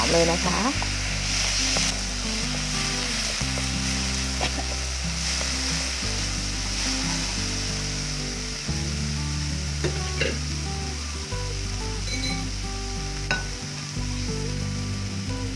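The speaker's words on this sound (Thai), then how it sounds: "ใส่เข้าไปผัดเลยค่ะ ผัดให้เข้ากันนะคะ" Northern Thai vegetarian chili paste is stir-fried with mashed vegetarian protein in a pan, giving a continuous loud sizzle and repeated scraping stirs, with low background music running underneath.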